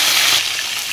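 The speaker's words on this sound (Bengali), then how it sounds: "ভাজা বসিয়ে দিয়েছি মাছটা" Fish frying in a kadai gives off a brief, bright sizzling hiss, close and steady for about a second with no talk.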